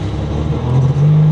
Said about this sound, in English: It cuts out when I give it throttle.